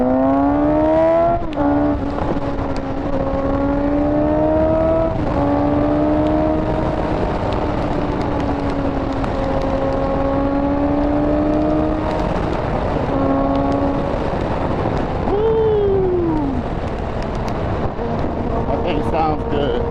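A 2019 Suzuki GSX-S750 with changed Vortex gearing drones steadily while being ridden, its engine note rising and falling through gear changes under heavy wind buffeting and occasional talk from the rider.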